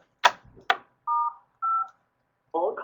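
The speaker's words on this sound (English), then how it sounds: "Okay, so now I'm going to unmute the phone." Telephone keypad tones sound on a conference call line: two short clicks, then two separate steady beeps and a third tone at the end, close and clear against silence.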